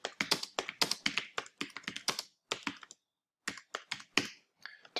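Rapid keyboard typing and mouse clicks while editing text in Adobe XD, a close, crisp run of uneven taps with a short pause before the clicking resumes.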